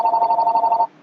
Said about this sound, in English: My telephone is ringing in the background.